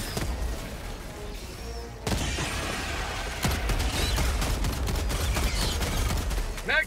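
In Helldivers 2 combat against bugs, a heavy blast cuts in abruptly and rapid gunfire rattles continuously afterward, loud and close over a constant churning battle din.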